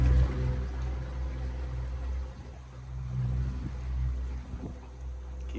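An electric boat motor running on 100 amp-hour batteries at about three-quarter throttle gives a steady low rumble and drone, even and unbroken, with water and hull noise mixed in.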